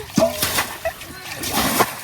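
Short bursts of splashing water as fish are caught by hand in a shallow flooded rice paddy, a few quick slaps and sloshes close by, mixed with a voice speaking over them.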